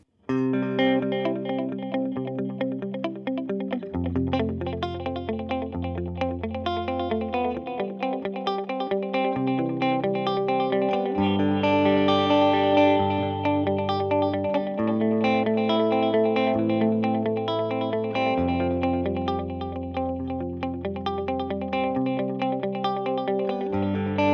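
Clean electric guitar playing chords and melodic lines through a Headrush pitch delay effect with detune at zero, repeating echoes trailing each note, steady and fairly loud throughout.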